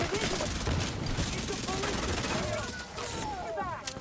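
Video game gunfire in a solo heroic run, heard as rapid bursts and volleys of shots under continuous game sound and voice chatter, with whistling pitched effects sweeping through.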